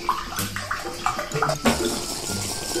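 Water is poured at close range in a few short splashing bursts, with a brief louder gush near the middle and quiet trickling after it.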